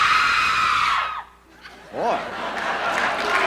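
Audience at a live concert in 1989 screaming and cheering loudly, the crowd noise dropping briefly before surging back, with a voice calling out in the middle.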